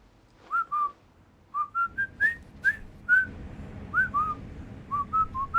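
A person whistles a slow, lilting tune of short rising and falling notes, sometimes two at a time, against a quiet low rumble of room noise.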